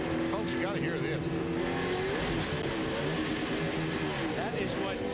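NASCAR race car engine failing at Kansas Speedway in 2004, heard as loud continuous engine roar and strained whine from cars on track, with a commentator talking over it.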